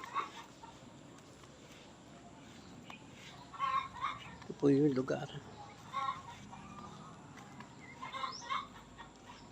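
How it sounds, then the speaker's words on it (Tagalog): Hens clucking in short bursts near the listener at a chicken coop, with someone talking over them for most of the clip. "kulungan ng mga manok kasi dumadami na ho yung atin ng mga manok"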